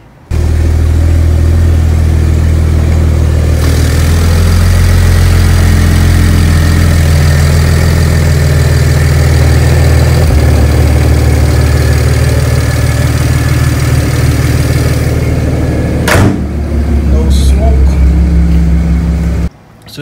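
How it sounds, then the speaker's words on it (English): A BMW 335i with the N54 engine runs steadily on a test drive, a loud, continuous low engine drone with slight shifts in pitch and a brief knock or thump near the end. "now I'm gonna go ahead and go see about doing a little test drive and see if this is working as it should"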